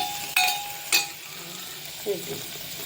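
Garlic sautés in a pan for a fresh field bean curry. Two sharp metallic clinks of a spoon ring out over a soft background sizzle, followed by a brief murmur of voice.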